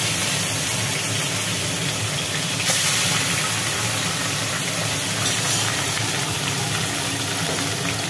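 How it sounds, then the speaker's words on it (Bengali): Large pieces of rohu fish frying in hot oil, giving a loud, continuous, close sizzling hiss that stays steady throughout with no voices. "এবার রুই মাছের টুকরোগুলো তেলের মধ্যে ছেড়ে দেওয়া হলো।"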